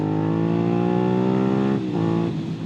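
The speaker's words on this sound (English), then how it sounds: "With that amazing sound coming out of the full M4 exhaust system on this particular bike" Suzuki SV650 motorcycle breathing through a full M4 exhaust system, a loud, close, rich engine drone held steady at high revs before the pitch dips briefly and settles lower near the end, with no voices over it.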